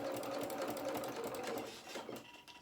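Sewing machine stitching a princess seam on a coat, a close, steady mechanical whir with rapid needle ticking that slows slightly near the end, with no talking.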